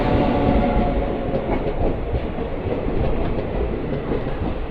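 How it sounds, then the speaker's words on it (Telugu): Rail noise from the 22820 Visakhapatnam to Bhubaneswar New Intercity Superfast Express, carrying a steady loud rumble with rhythmic clickety-clack of wheels on the rails. It is heard from inside a moving coach, with no talk. "22820 విశాఖపట్నం నుంచి భువనేశ్వర్ న్యూ వరకు వెళ్ళే సూపర్ ఫాస్ట్ ఎక్స్ప్రెస్"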